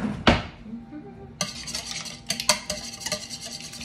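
A wire whisk beats ingredients in a bowl after a single dull thud, giving quick rhythmic metallic clinks and scrapes at close range.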